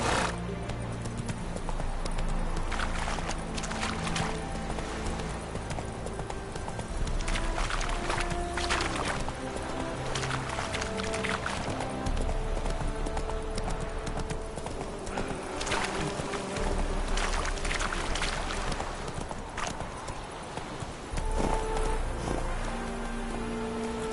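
Hoofbeats of the horse Roach in The Witcher 3, a steady clip-clop running throughout under layered game music and ambience, with a brief whinny-like sound and no talking.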